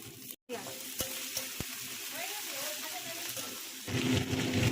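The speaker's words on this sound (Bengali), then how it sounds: "ভালো করে ধনে পাতাগুলো দিয়ে দেবো।" Chopped coriander leaves fry and sizzle steadily in a pan while thecha is being made, with a brief break early on and a louder burst of frying toward the end.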